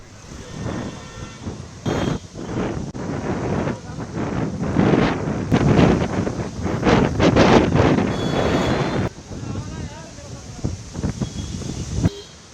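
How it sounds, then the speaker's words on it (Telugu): Strong gusty winds of a sandstorm in Rajasthan roar in surges, rising and falling loudly against the microphone, with voices faintly audible between the blasts. "ఈదురు గాలులు బీభత్సం సృష్టించాయి"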